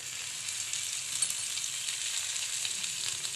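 Okra frying in hot oil, a steady, soft hiss and crackle that holds at an even level throughout, with no voices.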